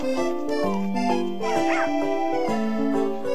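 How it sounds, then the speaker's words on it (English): A cartoonish puppy from the Nintendogs + Cats video game barks and yips in quick, bright bursts over a bouncy musical backing, close and prominent throughout. "When you call its name, Spot, the puppy will happily come running to you."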